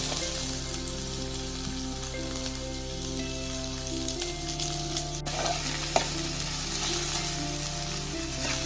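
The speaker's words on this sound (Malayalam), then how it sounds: "ഇഞ്ചി നമുക്ക് ബ്രൗൺ കളർ ആകുന്ന വരെ എണ്ണയ്ക്കകത്തിട്ട് വറുത്തെടുക്കണം" Oil sizzles and crackles steadily as chopped ginger fries until brown for Kerala-style ginger curry, a constant close hiss with occasional stirring clinks and pops.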